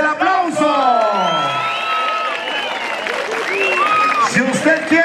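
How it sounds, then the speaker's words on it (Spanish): A crowd at a ranchero boxing tournament in Matagallinas cheers loudly, with whoops, shouts and bellowing voices over scattered applause, continuous and near throughout. "si usted quiere que gane esta primera pelea, el Chiptamba, ¿cuál es el aplauso?"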